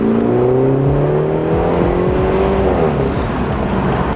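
A BMW F30 with a B48 engine and MST performance intake revs up close and loud, its engine note climbing steadily and then settling and dropping away near the end.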